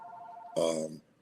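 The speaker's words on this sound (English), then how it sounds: "I'm sorry about the phone." A telephone rings once in an indoor interview setting, a loud, bright electronic tone lasting about half a second that cuts in over a faint background hum.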